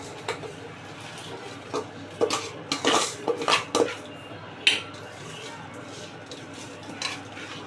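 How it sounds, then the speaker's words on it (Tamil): Drained soaked rice tipped into a cooking pot for tomato rice, close clatter and scraping of metal vessel and spoon in several quick knocks, with a soft background hum. "அரிசி கொட்டியாச்சு"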